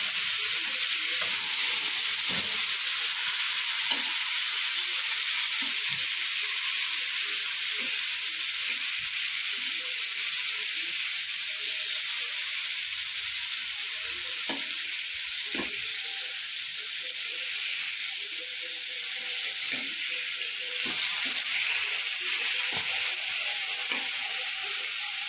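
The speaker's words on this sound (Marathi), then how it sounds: "चला तर आपण आता मासे पलटी करून घेऊया." Pomfret fish fry in hot oil in a pan just after being flipped, giving a steady, close sizzling hiss with scattered crackles and pops throughout, no voices.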